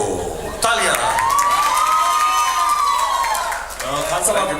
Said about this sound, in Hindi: प्रेम को तालियां।